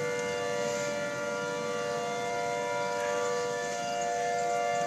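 A civil defense tornado siren blaring in Merrill, Wisconsin during a storm, a steady sustained wail that holds throughout at moderate loudness from a distance, with no talking.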